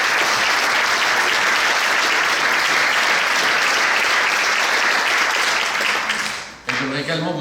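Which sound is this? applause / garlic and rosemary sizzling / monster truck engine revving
applause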